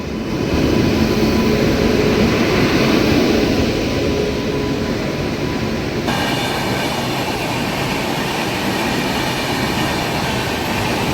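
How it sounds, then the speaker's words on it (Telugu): A WAP-7 electric locomotive, number 30778, moves for reversal, giving a loud steady rolling rumble with a continuous hiss and faint wheel squeal throughout. "ఇదిగోండి మన లోకో 30778 వ్యాప్ 7 లోకో"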